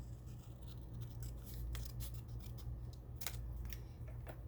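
Scissors snip along a paper outline in quiet, close cuts, a series of short crisp snips and rustles at an uneven pace over a low steady background hum.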